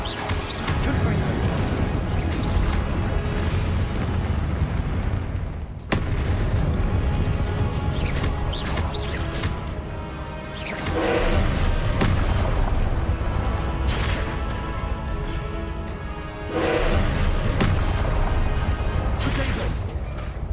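Repeated Confringo blasting-spell explosions in Hogwarts Legacy, heavy booms and crashing bursts that come in waves over a constant loud rumble of game combat.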